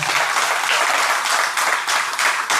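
An audience at a gathering bursts into loud, sustained applause, many hands clapping together without pause from start to finish.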